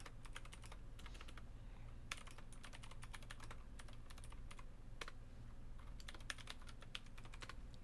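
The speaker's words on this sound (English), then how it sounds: "bring it down here so I can type in passwords" Steady clusters of quiet keystrokes as passwords are typed on an office computer keyboard, coming in bursts with brief pauses over a low constant hum of room equipment.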